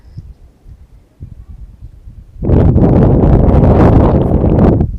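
Quiet outdoor background, then strong wind buffets the microphone with a loud, rumbling roar for the last few seconds.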